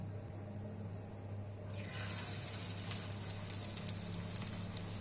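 Shrimp and onion fritters go into hot white cooking oil, and a quiet background hum gives way to a sudden, steady sizzle with small crackling pops.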